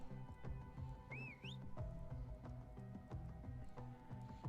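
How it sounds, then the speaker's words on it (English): A whistle is blown in a video game set in Umbar, one brief rising-and-falling tone over a busy, steady musical game soundtrack. "Let's blow the whistle."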